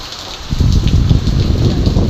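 Heavy rain driven by strong wind in a storm on the Philippine coast, a loud close roar of downpour and gusts that swells in after a quieter first half second and stays dense.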